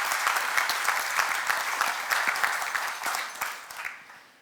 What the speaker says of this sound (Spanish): Pastor Rey, les doy un aplauso de felicitación.